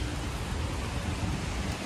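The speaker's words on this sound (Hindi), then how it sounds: "बारिश हो रही है बहुत तगड़ी कहीं" Heavy rainfall pours down in Gurgaon, a steady, dense hiss of water hitting surfaces that fills the whole stretch evenly and loudly.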